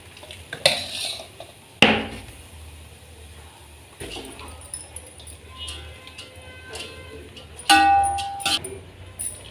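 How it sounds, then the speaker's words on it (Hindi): Rice being spooned into a pot in layers for a veg biryani, with a few sharp metallic clinks and scrapes of a spoon against the vessel, close and moderately loud over a quiet kitchen background. "अब हमें चावल डालना है, हम तय लगानी है हमें चावल की।"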